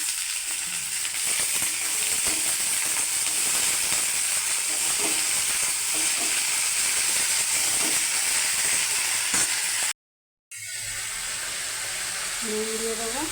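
Yardlong beans dropped into a pan of frying onions sizzle with a loud, steady hiss that runs continuously, cuts out briefly, then resumes.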